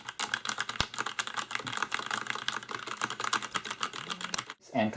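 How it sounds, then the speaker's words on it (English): Rapid typing on red mechanical key switches of a Koolertron PUBG one-handed gaming keypad, a dense close-up stream of soft clicks and clacks that stops abruptly near the end. "And here's what the red switches sound like."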